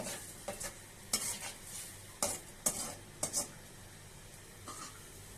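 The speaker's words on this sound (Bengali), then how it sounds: "এবার চুলার আঁচ মিডিয়ামে রেখে ভালো করে নেড়ে চেড়ে মশলাগুলোকে মিশিয়ে নেব" Spices are stirred in a pan over a medium flame for a fish and potato ghati dish, with a soft sizzle under several sharp, irregular scrapes and clinks of the spoon against the pan.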